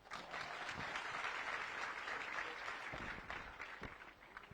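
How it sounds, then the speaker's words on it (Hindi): An audience applauds steadily for several seconds after a speech at a public event in Narayanpur, Chhattisgarh, a dense, even clapping that fades slightly at the end. "तालियां।"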